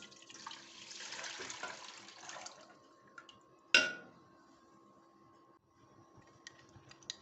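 Milk pours into a wok while making kacha golla, a Bengali sweet, a soft liquid trickle and splash for the first few seconds, then a sharp clatter and quieter dripping with faint ticks; no talking.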